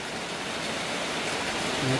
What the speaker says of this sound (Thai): ฝนตกฝนตกมาอีกแล้วนะครับ